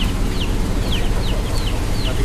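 Chickens cluck in a goat shed they share on a small farm, several short clucks repeating irregularly over a steady low rumble of barn noise, with no one talking.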